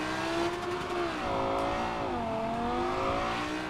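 A Porsche engine held at high RPM in Cyberpunk 2077 drones steadily, with the pitch dipping and rising slightly as it holds the revs without shifting.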